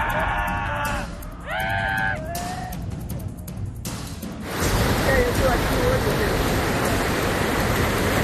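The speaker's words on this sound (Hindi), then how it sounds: "दहाड़ मारती नदियां" Flooded rivers roaring during heavy monsoon rain in the Uttarakhand and Himachal Pradesh mountains; people shout and cry out over the first half, then a loud, dense, unbroken rush of water takes over.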